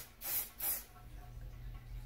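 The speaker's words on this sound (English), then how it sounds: "I don't know how much I'm supposed to spray it." Two quick bursts of a cosmetic setting spray from a Younique product, each a short airy hiss, close and fairly soft against a quiet room.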